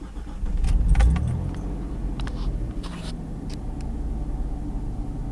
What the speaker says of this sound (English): basically how it idles when you start it up.